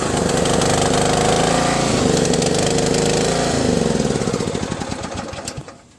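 A lawn tractor engine fitted with an electric fuel pump runs loud and close with a steady rattling drone, then slows and sputters to a stop near the end.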